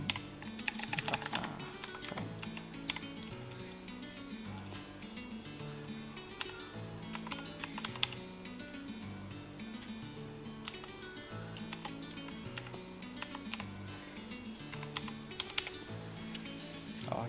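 Keys on a computer keyboard tapped while typing a file name in Photoshop CC 2022, light irregular clicks running continuously beneath soft background music.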